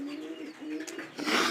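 Pigeons cooing close by, a soft throaty coo with a rising burble and some brighter rustling at the end, no talking.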